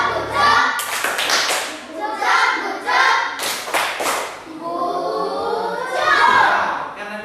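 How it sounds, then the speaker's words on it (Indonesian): Children in an Indonesian classroom give a rhythmic patterned "good job" clap together in bursts, with voices chanting and talking among them. "Kita berikan tepuk good job."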